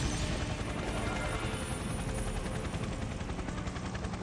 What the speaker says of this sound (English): I can't hear you over the helicopter!